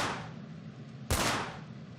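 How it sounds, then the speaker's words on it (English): A single sharp gunshot cracks out, followed by a fading echo, after a moment of lingering rumble. "Those are gunshots."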